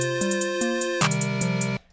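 Crisp hi-hat ticks fall in a steady, evenly spaced pattern over a sustained synth melody and deep bass, with no voices.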